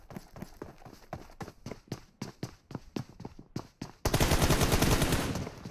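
Rapid bursts of gunfire in PUBG Mobile during a tournament final, sharp and rhythmic, then a dense continuous roar of noise toward the end.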